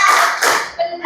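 Children in a physical education class clap their hands in a short chant-like pattern. Their voices join in and then the clapping fades briefly.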